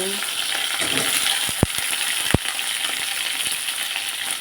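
Onions, then ridge gourd, pumpkin, long beans and potatoes, fry in a pan with a dense, even sizzle and a couple of sharp clicks from the stirring spoon, close up with no talking.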